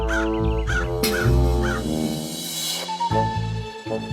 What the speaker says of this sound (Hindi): उस पेड़ के पास एक और पेड़ था जिस पर एक कौवा रहता था।